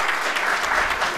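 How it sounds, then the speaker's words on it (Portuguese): Audience applause at a formal council session honouring a junior sports competitor, a brief, dense, even burst of many hands clapping. "Vamos aplaudir então o João Marcos aí por essa classificação."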